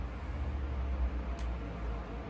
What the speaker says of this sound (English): The noise you hear in the background is a fan.